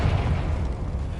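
Confringo blasting spell explosion in the video game Hogwarts Legacy, a dense, loud, rumbling boom that fills the whole moment with a heavy low-end roar.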